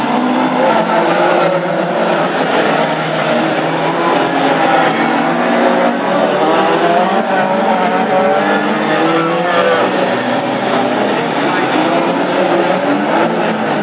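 Classic hot rod race cars battle on a wet oval track at Lochgelly, giving a steady, loud roar of engines with tyre hiss throughout, while a commentator talks over the racing.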